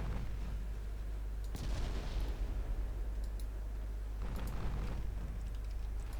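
Naval guns boom in a warship battle against a destroyer in Ultimate Admiral Dreadnoughts, two heavy salvos of blasts and crackling bursts spaced a few seconds apart over a low rumbling background.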